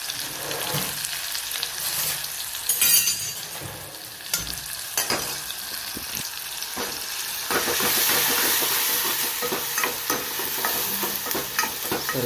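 Turmeric, red chilli, coriander-cumin powder, garam masala and salt get stirred into dal in a pan: a continuous close scraping and sloshing over a steady sizzle, with no talking.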